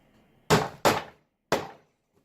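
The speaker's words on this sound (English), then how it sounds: "Hammer it in." Three sharp, close hammer strikes drive a tack into the wood of a beehive frame, two in quick succession and a third after a short pause, in an otherwise quiet room.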